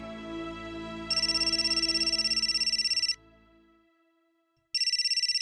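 A phone ringtone trills loudly in a rapid repeating electronic pattern for about two seconds, stops, then starts again after a short pause.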